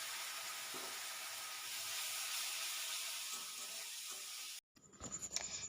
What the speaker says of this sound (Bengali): পেঁয়াজ কাঁচা লঙ্কা একটু চিড়ে দিয়ে দিয়েছি, এটা ভাজা ভাজা হয়ে যাক